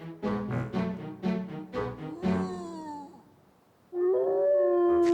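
Cartoon wolf howling from Masha and the Bear: a run of short rhythmic yelps leading into a long, loud sustained howl with a sliding pitch, then a second steady howl, close and clear with no talk.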